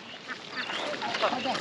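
Ducks quack in short, scattered calls as a flock is herded along in the early morning. The calls are faint and brief, mixed with outdoor noise.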